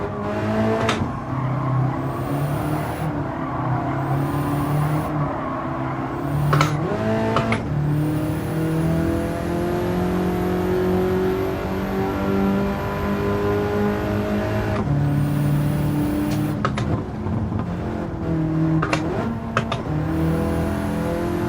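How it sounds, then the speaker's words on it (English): A race car engine in Gran Turismo 7 on an alpine course drones steadily, with repeated sharp upshifts and revs rising and dropping through the gears, loud and close throughout. "Car doesn't sound as cool as I wish it did."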